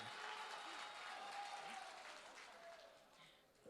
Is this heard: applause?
yes